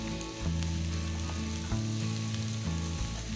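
Cashews, raisins and onion roast in a pan with a loud, close sizzle, and a low droning hum runs underneath with a few brief stirring knocks.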